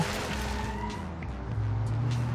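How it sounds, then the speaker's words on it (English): Car engine drone with tyre noise as a handbrake skid plays out in BeamNG.Drive, a steady loud mechanical hum with a rising engine tone near the end and no talk. "Handbrake action."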